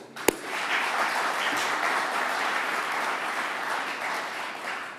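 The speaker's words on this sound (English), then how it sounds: "Let's give them a round of applause" A single sharp crack opens a steady round of applause from a conference audience in a Doncaster venue, the clapping continuing evenly at moderate volume to the end.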